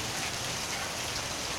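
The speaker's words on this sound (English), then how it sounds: "but it's raining." Steady rain falls while the sun shines, a dense, even patter of drops on surfaces that runs unbroken throughout, with no voices or other sounds.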